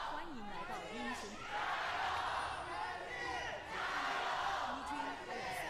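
Crowd at an LPL League of Legends esports match in 2025, roaring and cheering in two loud swelling waves, heard from a distance with an announcer speaking over it.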